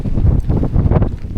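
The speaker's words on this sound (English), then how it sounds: "The wind is kicking my ass." Strong wind buffets the microphone on a hill walk, a loud, gusty roar with rumbling low-end blasts that swell and fall over a second and a half, with no other sound audible.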